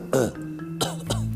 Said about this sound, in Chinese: 咳嗽啥？